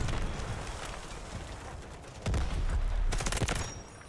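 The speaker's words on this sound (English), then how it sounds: "So this is a grenade launcher." Grenade launcher and gunfire in the Delta Force: Hawk Ops video game, with bursts of rapid shots and a sudden heavy boom partway through, loud dense explosive blasts with rumbling aftermath.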